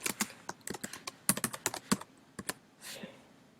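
Quick, crisp keystrokes on a computer keyboard arrive in an uneven run of close clicks, then a short soft rustle follows before a pause.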